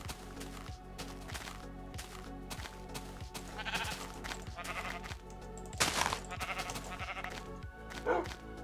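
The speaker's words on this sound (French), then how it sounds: "C'est cool qu'il y ait du mouton." Sheep bleat repeatedly in a Minecraft-style survival game, the calls rising over a steady looping musical soundtrack with a regular beat that runs throughout.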